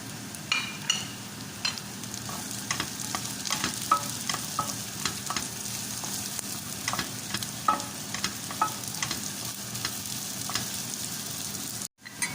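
Green beans stir-fried with garlic in a pan as vegetable filling for lumpia spring rolls: a steady close sizzle broken by frequent scraping, clicking stirs, heard alone, cutting out briefly just before the end.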